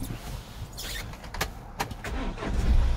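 A car engine starts during a driving test: a few short mechanical bursts, then a low, steady rumble building toward the end, close and fairly loud inside the vehicle.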